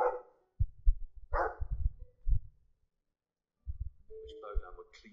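A dog barks in the video game Dragon Age 2, with several quick, loud barks mixed in with game voices and then a pause before more sounds.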